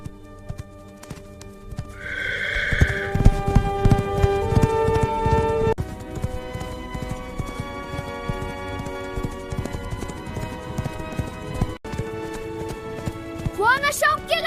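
Horse hooves clip-clop in a steady galloping rhythm under music, with a whinny near the start and speech in a Kazakh folk-tale setting.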